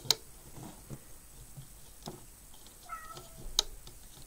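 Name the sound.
cat meowing loudly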